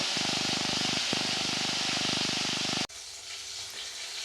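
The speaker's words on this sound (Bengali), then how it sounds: "একটা একটা করে মাছ দিয়ে দেবো এই মাছগুলো দিয়ে ভালো করে আমি মাছটাকে ভালো করে লাল করে ভেজে নেব" Koi fish fry in hot oil with a loud, dense, steady sizzle that suddenly drops to a quieter, gentler hiss.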